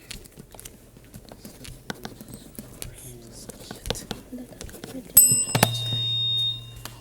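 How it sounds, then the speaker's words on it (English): Quiz buzzer bell at a televised Jamaican schools' challenge quiz match, a bright electronic ring sounding after scattered soft sounds, with a sustained tone lingering for about a second. "The bell came first."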